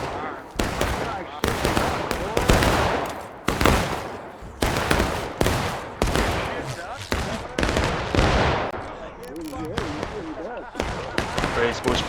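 Volleys of musket fire crack and echo in a War of Rights battle, sharp shots overlapping in quick clusters near and far, with players' voices shouting among the gunfire.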